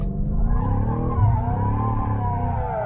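A BMW M5 drifts at the BMW Performance Center, its engine droning loudly and steadily while the tires squeal in a sustained, close skid with no voices over it.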